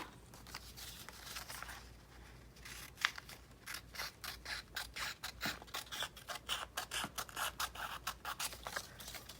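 Scissors snip through art journal paper in a quick, close run of crisp cuts, starting sparse and then speeding into a steady rhythmic series of snips, with no talking.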